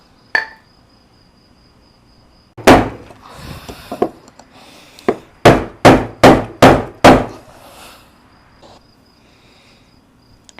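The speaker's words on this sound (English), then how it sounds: "After about 50 hits, I finally got it loose" A hammer drives a screwdriver against a Jeep Wrangler TJ fuel pump lock ring, giving loud metallic strikes: a few scattered hits, then a quick run of about six evenly spaced blows before quiet.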